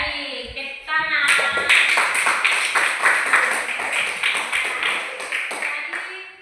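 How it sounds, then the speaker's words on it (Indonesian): A group applauds at the end of a classroom demonstration on boiling noodles, with steady hand clapping lasting several seconds, fairly loud and close, after a brief moment of talk. "Tepuk tangan."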